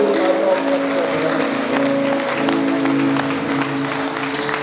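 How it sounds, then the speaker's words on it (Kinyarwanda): A church youth conference audience claps steadily together, the applause close and continuous over a sustained tonal background. "mukomere Imana amashyi"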